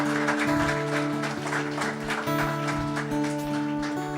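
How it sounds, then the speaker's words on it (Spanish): Church congregation clapping during Spanish-language worship, steady applause layered under sustained music with held tones, loud and continuous throughout. "Dale un aplauso al Señor"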